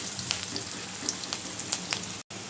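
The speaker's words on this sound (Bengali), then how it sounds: "পেস্টটা একটু ভাজা হোক" A spice paste of turmeric, chili, cumin, ginger and garlic fries in a pan. It gives a steady, soft sizzle with small scattered pops and crackles and no voices.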